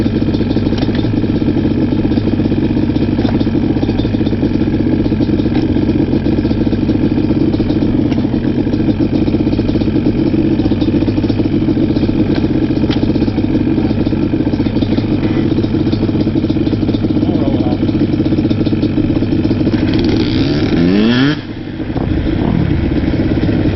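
A Banshee ATV engine runs steadily throughout at a loud, close idle with a constant mechanical clatter, and a brief dip near the end as the throttle changes.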